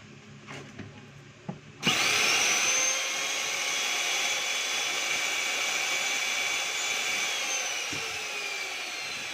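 A Black and Decker BXPW1400 electric pressure washer switches on after a few handling knocks, then runs with a loud, steady whining drone that stays close and continuous to the end.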